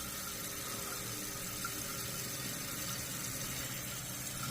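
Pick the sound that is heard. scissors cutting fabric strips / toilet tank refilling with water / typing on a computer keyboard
toilet tank refilling with water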